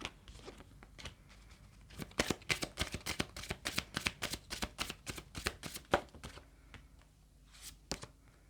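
Tarot cards shuffled by hand in a quick, crisp run of riffling flicks, then a couple of cards drawn and set down; close and fairly quiet, with no talk over it.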